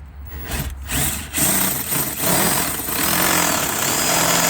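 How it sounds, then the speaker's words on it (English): A large power drill bores a hole for a new push-button ignition switch in a Ford Escape, close and loud, with a few short bursts before a sustained whirring run. "Big boy drill for the new switch hole."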